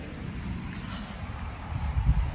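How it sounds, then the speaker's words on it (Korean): Wind gusts outdoors during stormy, rainy weather, giving a low, blustery rumble that buffets the microphone in uneven surges and swells near the end. "비 오고 바람 불고 난리가 났어요"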